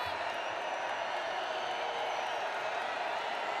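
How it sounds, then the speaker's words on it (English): A stadium crowd at an Ohio Bobcats versus Wyoming Cowboys football game roars for Wyoming, a steady distant wash of cheering and scattered whoops holding level throughout. "Crowd making noise for Wyoming."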